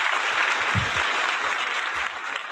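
Steady applause from a crowd, dense and continuous, heard from a short distance at moderate volume.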